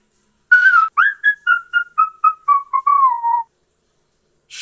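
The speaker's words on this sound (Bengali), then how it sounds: "human whistle" Human whistle sample from a sample pack, a clear solo melodic phrase of about ten short whistled notes gliding gently downward, close and isolated against silence.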